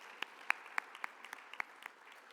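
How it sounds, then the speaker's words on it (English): Sparse audience applause for an honoree at the Utah Business 20 In Their 20s 2021 event, a thin scattering of quiet claps with a few sharper ones standing out, fading toward the end. "give her a round of applause for what she's done"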